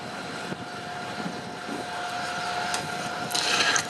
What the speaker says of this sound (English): die beiden Triebwerke sind zwei GE CJ610-9 mit einer Leistung von 2 mal 1406 Kilopond